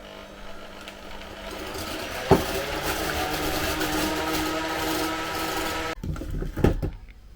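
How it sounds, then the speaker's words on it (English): Meringue being whisked with vanilla bean paste, a steady, even whirring drone at close range lasting most of the clip, with a brief knock near the start and a quieter, broken tail at the end. "And all I'm doing is I'm just going to whisk it."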